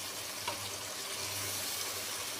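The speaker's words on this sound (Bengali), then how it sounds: "তো এবার আমি পানি দিয়ে দিলাম" Water pours steadily into a pan of chicken cooking with bean seeds and spices, a continuous splashing gush, close and moderately loud, with a low hum underneath.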